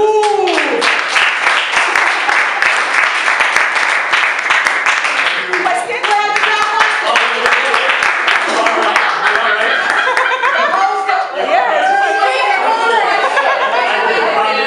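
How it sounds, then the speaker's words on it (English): Applause mixed with crowd chatter and light laughter from an audience after a class presentation, steady clapping filling the room with voices murmuring through it. "And let's give him a round of applause."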